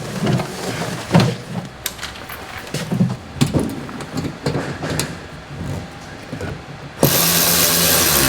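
Screws being tightened on a mud flap of a Ford F-Series truck, with repeated ratcheting and mechanical clicks, scrapes and handling knocks close by, ending in a steady loud hiss.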